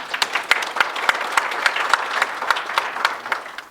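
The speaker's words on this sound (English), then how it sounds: "Please join me in giving a warm round of applause to invite our chief guests to share their insights with us." An audience at a seminar on Gilgit-Baltistan heritage applauds the chief guests, a dense, steady patter of many hands with sharp individual claps standing out, continuing throughout.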